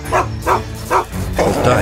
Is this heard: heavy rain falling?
no